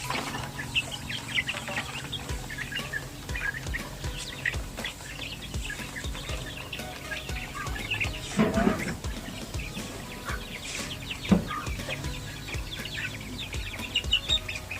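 Native chickens on a farm clucking and chirping while being fed, a busy mix of soft calls with scattered taps and rustles, moderately close, and a person speaking now and then.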